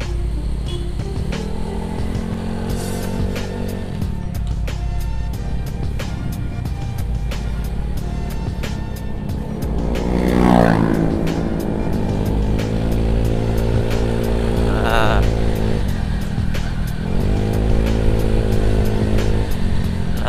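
Honda Scoopy scooter fitted with a Speedspark open looper exhaust, riding with a loud steady engine drone that rises and falls through several throttle blips and revs, heard up close with no talking.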